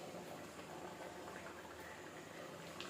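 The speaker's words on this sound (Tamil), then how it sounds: "இன்னும் கொஞ்சம் நேரம் நல்லா கொதிக்கட்டும்." Steady, dense bubbling of thick mutton thalsa curry simmering in a pot, a constant low hiss with no talking.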